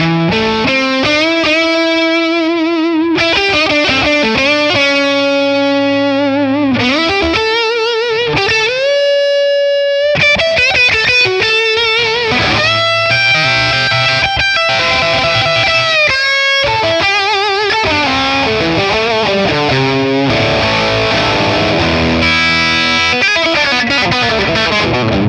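A Les Paul electric guitar plays sustained, distorted lead lines with reverb through a Matchless Laurel Canyon amp, starting on the neck pickup, bending and holding notes in a loud, continuous melodic phrase.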